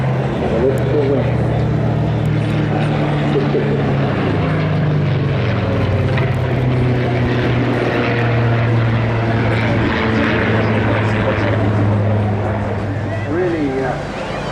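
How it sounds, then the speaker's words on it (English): A powerful Rolls-Royce-engined Spitfire Mk 19 flies at an air festival, its deep, steady engine drone loud and continuous with slowly shifting pitch throughout, while an announcer talks over it. "Really powerful Mark 19 Rolls-Royce Spitfire coming out of the port of the sunshine"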